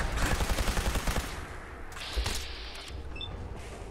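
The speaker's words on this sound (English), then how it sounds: "I'll just shoot him in the chest." Rapid gunfire in Fallout 4, a quick burst of repeated shots in the first second, then a single louder crack, close and sharp with no talking.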